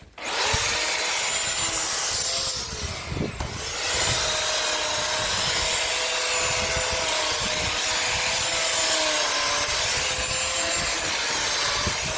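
A chainsaw cuts through cordyline australis (cabbage tree) wood, a loud, steady, close engine drone that runs almost unbroken for twelve seconds with one brief dip early on.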